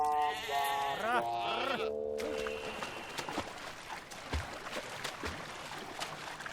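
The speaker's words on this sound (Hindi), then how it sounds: "कहाँ भेड़ बकरियों में ले आए आप?" Several sheep and goats bleat in quick succession close by, wavering cries overlapping at the start before fading into a quieter outdoor background of rustling and footsteps.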